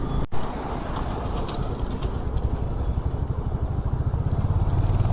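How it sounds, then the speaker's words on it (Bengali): Darjeeling Himalayan toy train running through the mountains, a steady rumbling roll with a rhythmic mechanical clatter that builds slightly over the moment, heard close by amid engine-like noise. "দার্জিলিংয়ের ঐতিহ্য এই টয় ট্রেন।"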